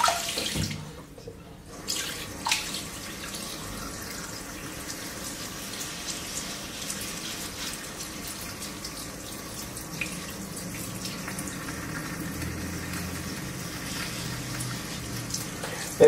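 Tap water runs steadily from a faucet over a cartridge razor during a head shave, a continuous close splashing hiss lasting throughout after a brief quieter gap near the start.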